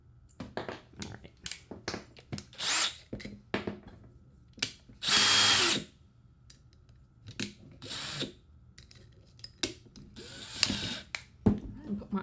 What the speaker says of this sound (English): I'll be like drilling up through here